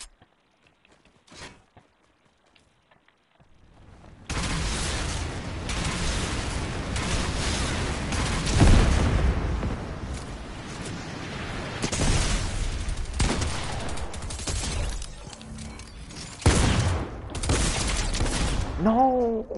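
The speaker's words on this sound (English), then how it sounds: "I got 2 people shooting at me." Fortnite gunfight with two players firing, opening quiet with a lone shot and then a long stretch of loud, dense gunfire and impacts with louder bursts, while a voice talks over it.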